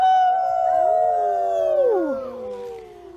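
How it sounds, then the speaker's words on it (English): A single long, close howl of the big bad wolf, held steady before sliding downward and fading at the end, heard alone without talk. "The wolf was very hungry."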